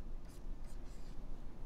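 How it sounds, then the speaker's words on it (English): A pen scratches across paper in a few brief, soft strokes while drawing, faint and close, under a low background hum with a voice murmuring quietly. "I need to focus because I'm drawing Melton's seam."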